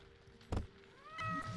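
Kittens meow in a video game, with a short thump, then one brief, faint mewing call over quiet background noise.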